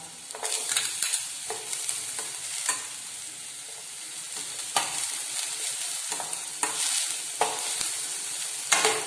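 Capsicum sautéed in a pan for pav bhaji: a spatula stirs and scrapes at intervals over a continuous bright sizzle, close by, with no talking.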